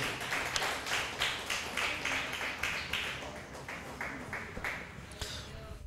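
A church congregation claps in steady, rhythmic unison, about two beats per second, moderately distant and filling the room, with voices under it.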